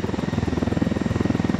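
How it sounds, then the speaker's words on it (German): Helicopter rotor from the video game Ghost Recon Wildlands, a steady rapid chopping thrum with an even pulsing rhythm, moderately loud and close, with no one talking over it. "Aber etwas wenig Wind macht der Heli"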